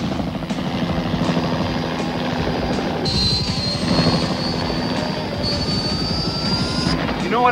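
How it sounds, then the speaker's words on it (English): Whirring helicopter from the animated M.A.S.K. cartoon, Venom's chopper, beats steadily and loudly throughout, with a thin high whine entering partway through and other sound effects layered over it. "Keep Venom's chopper corralled so we don't lose the throne."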